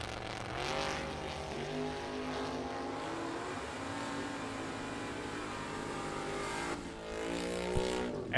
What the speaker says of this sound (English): wheeling his father Mike's Oldsmobile Cutlass here this Sunday